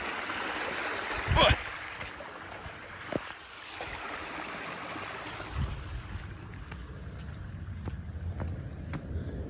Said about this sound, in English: Another little creek crossing.